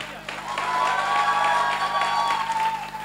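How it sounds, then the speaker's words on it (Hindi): Loud, dense applause from an audience at a Hindi network marketing motivational speech, steady for about three seconds with crowd noise and a faint tonal drone running through it. "यस यस सर के लिए जोरदार तालियां होनी चाहिए इस बात के लिए, जोरदार।"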